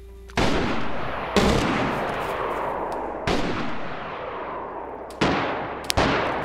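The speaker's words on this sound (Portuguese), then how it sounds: "Agora ele atirou em quem, mano?" Loud, sharp gunshots in DayZ Standalone, about six separate cracks spaced irregularly, each with a long rolling echo that trails off before the next, including a quick double shot near the end.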